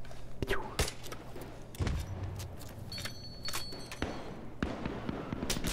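A grenade launcher, the so-called noob cannon, fires in Battlefield 3 on the Operation Metro map amid sharp bursts of gunfire and explosive thuds, with a thick battle din throughout.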